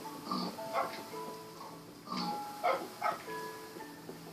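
Several short grunting oinks from a pig in a video game come in irregular bursts over a few seconds. They are moderately loud and close, with no talk.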